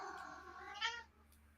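A cat named Mr. Kitty meows in a short, drawn-out, rising and falling cry, fairly close and clear, with no talk over it.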